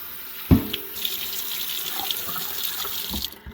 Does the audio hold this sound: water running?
yes